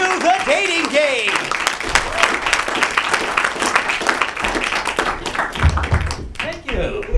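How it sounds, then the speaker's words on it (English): Studio audience applauding and clapping at a Valentine's Day dating game show as a contestant comes up, dense broadband clapping running throughout with cheering voices and chatter mixed in. "please give a round of applause to Steve as he comes up to the dating game."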